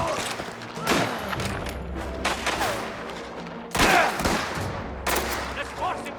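Rapid gunfire in the video game Mafia: The Old Country, repeated loud shots and bursts in quick succession with sharp peaks, close and intense over a dense background of game sound.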